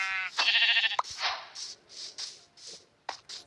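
A Minecraft sheep bleats loudly once, followed by several soft, short scuffling and clicking sounds, with no talking.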